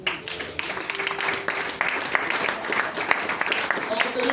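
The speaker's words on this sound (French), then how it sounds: "Acclamons le Seigneur." Church congregation clapping in praise, dense sustained applause with scattered sharper claps, a voice speaking over it.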